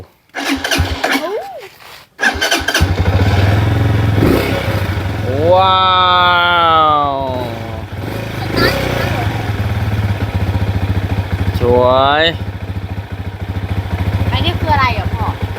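An old motorcycle engine coughs to life after a brief silence and settles into a steady, loud, low idle that runs to the end, with people talking close by over the chugging.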